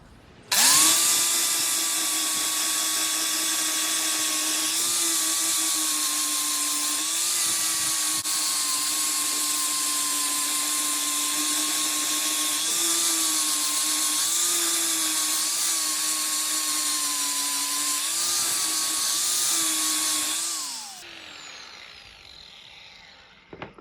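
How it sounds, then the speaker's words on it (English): A power grinder works on Suzuki Bandit 1200 motorcycle parts, whining loudly and steadily at close range for about twenty seconds, its pitch dipping slightly under load before it spins down. "Get the grinder."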